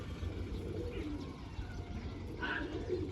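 Large, older pigeons coo softly and steadily at close range, low rolling calls repeating over a constant background hum, with no talking.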